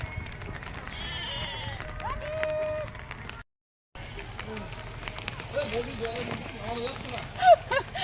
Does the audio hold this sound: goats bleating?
yes